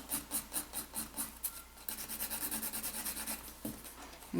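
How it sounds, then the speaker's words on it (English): Nail file rasping across an acrylic nail in steady back-and-forth strokes, close and fairly soft, about two strokes per second with a brief pause midway. "I'll just start filing this one."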